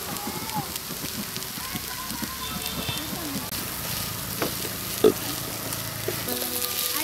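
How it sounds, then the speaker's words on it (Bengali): Potato filling for dosa stirred in a frying pan, a steady close sizzle under scattered scraping of the spatula with one sharp knock partway through. "এখন এই সবগুলো নেড়ে চেড়ে একসাথে মিশিয়ে আলুর পুরটা তৈরি করে নিচ্ছি"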